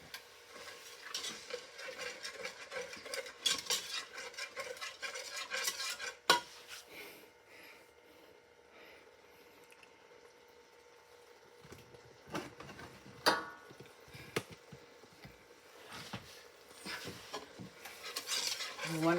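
Heavy whipping cream sauce for chicken alfredo is stirred in a pan, giving a steady scraping swirl with occasional clinks of a utensil against the pan across about twenty seconds, with no talking.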